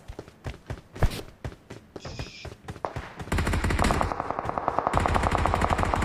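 Rapid video-game gunfire at a bot: close bursts of automatic shots rattle out, sparse at first, then dense and continuous, with a few footsteps between.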